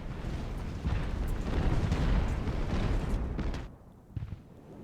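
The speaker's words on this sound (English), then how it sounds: "Alright, our front line's taking fire now." Cannon and musket fire rumbles across a battlefield in Ultimate Admiral: Age of Sail, a dense, continuous roar of booms that drops away near the end, leaving a few scattered reports.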